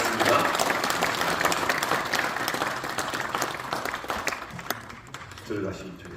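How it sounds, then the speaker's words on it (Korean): Members at a regular meeting of the Seoul Gangnam church presbytery give a big round of applause, full and sustained at first, then tapering off as a voice comes in near the end. "큰 박수로 정리하겠습니다"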